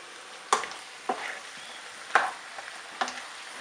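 A dish frying in a pan with fish sauce and soy sauce, a faint steady sizzle broken by a few soft clinks of a utensil stirring, quiet and close with no talking.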